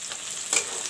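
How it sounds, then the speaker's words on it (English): Onions frying in a pan with bay leaves, cinnamon, cloves and green cardamom give a soft, steady sizzle with a brief louder crackle midway, for curry. "And fry the onions till golden brown."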